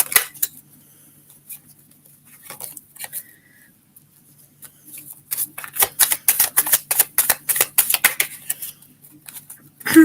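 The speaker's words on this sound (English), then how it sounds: "Let me just shuffle my cards" Tarot cards being shuffled by hand, a dense run of crisp papery riffles and flutters building after a few scattered taps, close and fairly loud with no talking.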